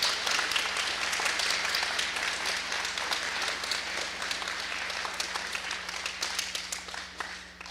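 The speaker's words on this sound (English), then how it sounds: "So a big round of applause for your mentors and parents." Sustained applause from an audience at a student underwater robotics (ROV) competition, honoring mentors and parents, with a steady dense clapping texture throughout, loud and continuous, gently tapering near the end.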